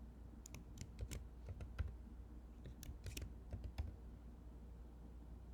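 Keys on a computer keyboard are pressed in short bursts of crisp clicks while keyboard shortcuts move focus through blocks in a program, typed close and quietly with no one talking.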